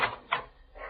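A front door opening in an old Hollywood comedy scene, giving a couple of short wooden knocks and creaks within about a second, moderately loud with no talk over it.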